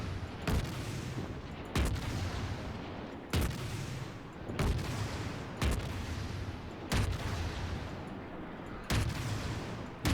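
Warship guns on the Krasny Krym fire in World of Warships, a series of heavy booming salvos roughly every second and a half over a constant rumbling background, loud and close.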